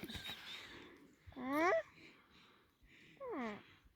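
A horse gives two whinnies, the first high and quavering, the second shorter and falling, close by, with murmured voices and quiet sounds around them.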